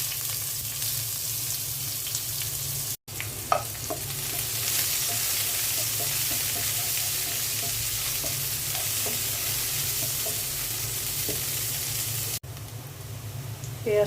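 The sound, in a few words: onions frying and being stirred in hot oil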